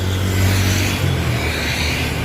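Mira intercity bus 7290 pulling away from a busy roadside stop on a Monday morning, a steady low diesel engine rumble with traffic noise, fairly near and continuous.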